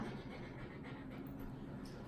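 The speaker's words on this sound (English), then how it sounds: "She's always panting." Steady, rapid dog panting close by, a continuous breathy huffing rhythm with no talking over it.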